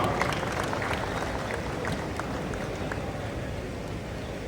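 Steady, dense applause from a large audience fills a farmers' fair award ceremony at Punjab Agricultural University in Ludhiana, continuous clapping without pause throughout.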